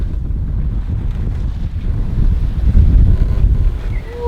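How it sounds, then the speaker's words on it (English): Steady wind buffets a sailboat under way at night, rushing low and continuous against the hull and microphone, swelling slightly near the middle before easing. "we finally got some beautiful sailing wind"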